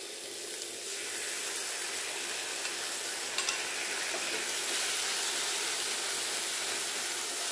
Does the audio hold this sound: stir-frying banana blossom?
yes